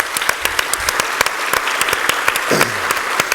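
Round of applause from an audience at a living room conversation event, a dense wash of close clapping with sharp individual claps, a voice briefly speaking near the end.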